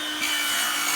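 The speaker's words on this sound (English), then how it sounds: "He's cutting the end of the timber." A hand saw cuts across the end of a piece of timber while steel beams are being fitted, giving a steady, close rasping stroke that carries on for about a second with no talk over it.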